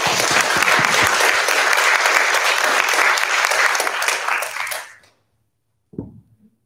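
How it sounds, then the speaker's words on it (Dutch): Audience applause at a queer zine presentation in Utrecht, loud and dense for about five seconds before stopping abruptly, followed by a brief thump or shuffle. "Mag een groot applaus voor Belm Jonas"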